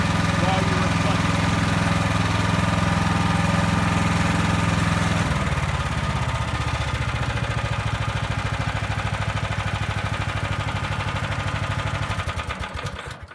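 A push snow blower's small engine runs loud and close at a steady idle, its tone shifting partway through as the machine is engaged, then continuing with a rough, even putter.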